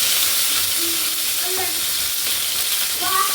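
Curry leaves fry in hot oil in a pan with a close, continuous sizzle and hiss, broken by faint scattered pops throughout.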